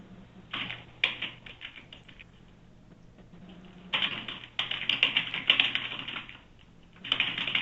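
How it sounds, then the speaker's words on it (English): Rapid clicking of computer keys in several bursts, separated by brief quiet pauses, close and fairly faint. "I hear some typing."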